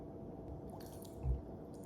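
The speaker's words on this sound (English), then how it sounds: "Oh my gosh, I just spilled this water everywhere" Water spills with a brief wet splash and squish under a steady low background hum, close and fairly faint, with no talk.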